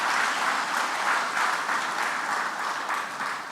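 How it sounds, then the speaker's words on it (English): Audience applause for a lecturer at a Nigerian independence anniversary public lecture, a dense, loud, sustained roar of many hands clapping at once, continuous throughout with no talk. "A round of applause for our lecturer."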